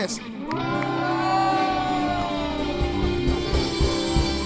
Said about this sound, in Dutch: We gaan 1, 2, 3 tellen en dan gaan we hard juichen voor de Heer.